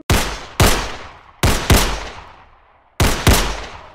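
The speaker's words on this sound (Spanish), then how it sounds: "Policías bajo una ráfaga de tiros a pareja de cristianos, tras confundir su vehículo con delincuentes." Repeated gunshots fired at a roadside police checkpoint in the Dominican Republic, sharp loud cracks in uneven bursts of two, one, then two, each decaying quickly, with no talk.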